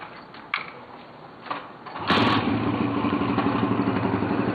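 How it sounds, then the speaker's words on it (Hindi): Motorcycle engine started after a repair, catching abruptly and settling into a steady, loud, clattering idle up close, with a few faint knocks and bumps before it fires. "ले आओ समीर, स्टार्ट करो, ले आओ बाइक"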